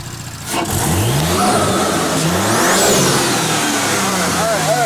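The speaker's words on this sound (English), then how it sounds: "Give me a little bit of rev, not too crazy" An Audi car engine revs loudly and steadily, the pitch climbing and falling through several blips with a continuous mechanical roar, close up, with voices faintly mixed underneath.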